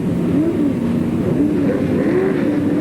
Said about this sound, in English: Up come the engine revs.